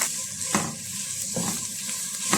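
Finely chopped onions drop into hot oil already frying with cardamom and cloves, a close crackling sizzle broken by three scraping stirs of a spatula in a regular rhythm, no speech.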